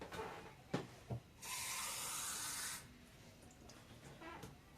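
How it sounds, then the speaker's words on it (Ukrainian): After a couple of soft knocks, half a glass of plain water pours into a pot of pork fat with bay leaf in one rushing stream for just over a second, then fades to quiet. "вливаю сюди, і пів склянки звичайної води"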